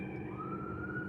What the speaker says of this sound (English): the ambulance is like, wow, it's closer and closer.